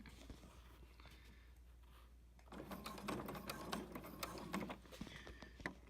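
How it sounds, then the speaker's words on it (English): A sewing machine stitching binding onto a quilt, quiet rapid needle chatter that starts soft and grows busier and louder after a short lull, close by with no talking. "keep sewing right next to that binding."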